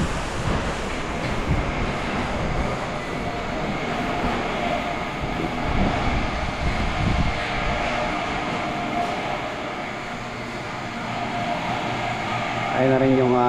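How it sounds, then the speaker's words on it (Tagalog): Strong wind roars steadily across an open construction site, a loud continuous rush with gusts, with voices talking at times underneath. "Ang lakas ng hangin."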